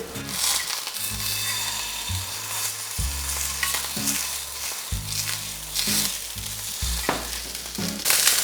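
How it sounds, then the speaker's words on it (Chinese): Steady sizzling of salmon frying in a pan, with repeated low scraping and stirring sounds throughout. "我们煎鲑鱼啊"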